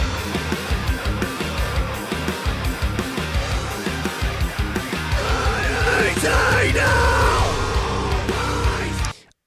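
High and low metal screams are layered over a dense, loud rock and metal backing with pounding drums and heavy distorted guitars, the yelling growing more prominent midway before the mix cuts off abruptly.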